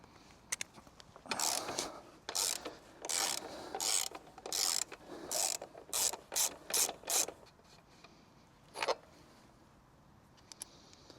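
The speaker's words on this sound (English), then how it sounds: "So let's start removing the wheel." Hand tools work on a motorcycle wheel during a tire change: about ten short, clicking ratchet bursts in a steady rhythm, close and clear, then a single late burst and faint ticks.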